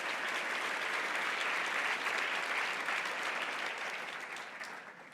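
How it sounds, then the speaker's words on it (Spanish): Church congregation applauding together in a steady, dense clapping that fills the room and then gradually fades near the end, with no voices over it. "dale un aplauso a Dios con todo tu corazón"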